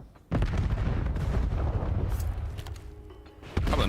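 Grenade blasts in a Call of Duty League match, a deep booming burst opening early and a second heavy hit near the end, with rumbling battle noise sustained between them.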